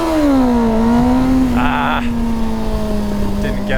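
A Kawasaki ZX-9R sport motorcycle engine drones steadily up close as it accelerates for a wheelie, pitch dipping slightly then holding, with brief higher whines over the top.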